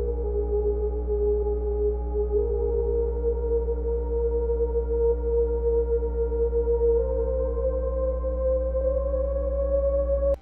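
Synth melody line added to a remix production, steady sustained tonal notes over a constant low bass drone, playing continuously at even loudness with no voices.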